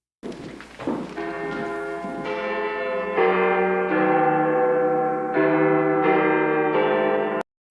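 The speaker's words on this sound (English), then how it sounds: "For whom does the bell toll?" A church bell tolls in the film Dead Poets Society, its loud, ringing strikes coming one after another with long shimmering decays that overlap, close and clear, with no talking.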